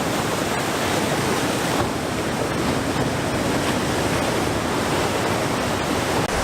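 Ocean waves at a secret beach produce a steady, loud, wash-like roar that continues without pause and has no distinct individual breaks or voices.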